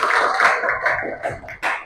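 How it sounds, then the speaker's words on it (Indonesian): A classroom group gives a short round of applause, a dense patter of hand claps close by for a couple of seconds, with no speech over it. "Tepuk tangan dulu dong."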